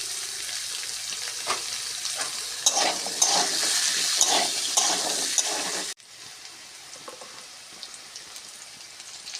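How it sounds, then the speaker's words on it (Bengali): Potatoes and carrots fry in oil with cumin seeds and a little turmeric, giving a busy, crackling sizzle and occasional stirring scrapes that drop abruptly to a quieter, softer bubbling for the last few seconds. "আলু আর গাজরটা একসঙ্গে ভেজে নিতে হবে"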